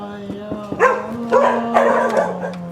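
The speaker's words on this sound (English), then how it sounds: "It's the dogs next door." Dogs next door bark and yip in a few quick bursts, fairly close and loud, over a steady low hum, with some talking mixed in.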